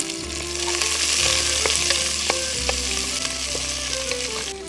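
Cinnamon, cloves, fennel seeds and onion fry in oil inside a pressure cooker for a traditional goat intestine gravy, giving a steady, loud sizzle with occasional light metallic stirring clinks throughout.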